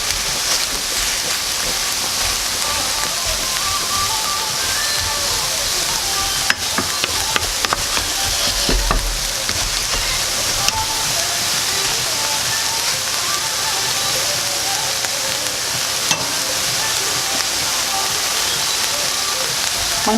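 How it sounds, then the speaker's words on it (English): Mushrooms frying in a pan, spread so they all touch the bottom, for Spanish scrambled tofu: a loud, continuous sizzle with faint crackles and a few utensil clicks throughout. "so I'm going to leave this sizzling here for a little bit"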